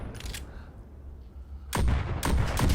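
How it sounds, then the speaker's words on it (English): High-caliber pistol shots from the VR game Pistol Whip, a few sharp, booming cracks in quick succession, loud and echoing after a quieter stretch with no talking. "that one just sounds like a freaking hand cannon, like a Desert Eagle in a hallway."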